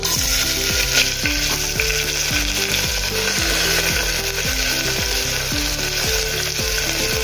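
Finely chopped onions fry in hot oil with cumin seeds, for chana masala, giving a steady loud sizzle with a repeating low scraping rhythm from stirring throughout, and no voices.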